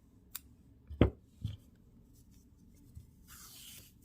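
A pair of scissors snips off a long crochet yarn tail on an amigurumi Charmander: one sharp, close snip with a softer second cut just after, in a quiet room.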